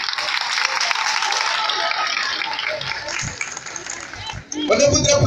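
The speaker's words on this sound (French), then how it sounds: "Je voudrais que vous acclamez cela." Applause and cheering from an audience at a Côte d'Ivoire twins' association event, a dense steady wash of clapping lasting several seconds before giving way to a louder voice near the end.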